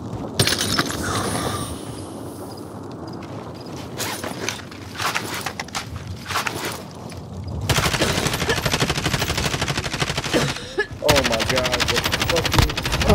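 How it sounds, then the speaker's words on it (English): Video game gunfire crackles in several bursts of automatic fire amid footsteps and mechanical clatter, loud and close at times, with voices talking over parts of it. "I'm taking fire!"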